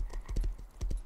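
A horse in Rust clops along with quick, uneven hoofbeats, several sharp close thuds in a short burst, with no voices heard.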